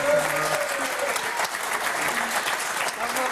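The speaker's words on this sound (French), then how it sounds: "Applaudir Jean-François et Aurélie, qui ont été formidables." A TV game show studio audience applauds steadily, dense close clapping holding at an even level throughout, with a brief voice under it at the start.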